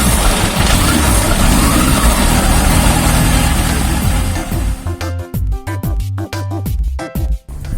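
A Yamaha FZR 1000 EXUP motorcycle engine runs loud and close, a steady dense roar that turns into choppier revving bursts and rumbles toward the end, with no talk.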